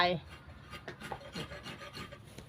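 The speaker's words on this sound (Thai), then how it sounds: "สาวเมืองสิงห์ก็มีหน้าที่ขูดมะพร้าวอ่อน" Young coconut flesh being scraped out by hand, a quiet run of soft rasping strokes repeating irregularly, close by, with no talk.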